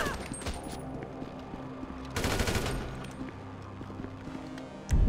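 Gunfire in Grand Theft Auto crackles at moderate loudness, with a sustained rapid automatic burst in the middle and scattered shots and game noise around it, ending in a sudden low thump.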